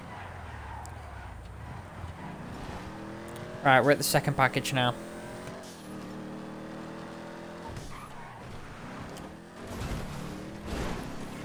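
A battered, smashed-up car in GTA 5 drives with a steady engine drone, punctuated midway by a short burst of loud, pulsing engine or tire noise, while someone talks over it.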